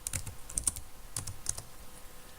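Quick clicks of typing on a computer keyboard, close and fairly quiet, with uneven bursts of keystrokes and short pauses between them, no voices.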